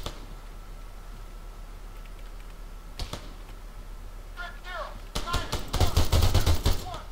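Gunfire in the ARMA 3 military game: a few sharp isolated shots, then a burst of rapid automatic fire growing louder toward the end, with a voice heard briefly.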